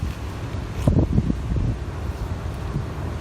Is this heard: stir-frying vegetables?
no